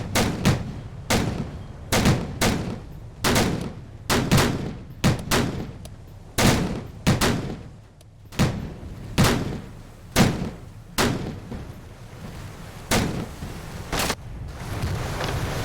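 Naval gunfire from German destroyers in a World War II naval warfare video game: a steady volley of sharp, booming cannon shots, roughly one or two every second, loud and close, with no talking.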